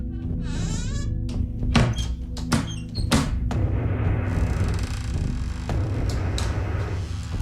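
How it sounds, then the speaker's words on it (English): Kitchen cabinet doors open and close in a quiet room: a series of distinct wooden thunks and knocks with faint squeaks, irregularly spaced over a low background hum. "The cabinet doors in the kitchen, you can hear open and close"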